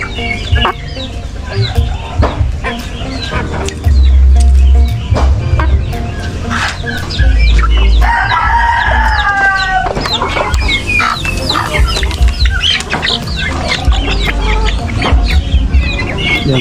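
On a provincial Philippine farm with chickens and turkeys, hens cluck steadily and busily nearby. A rooster crows once in the middle, and gusts of low wind rumble come and go.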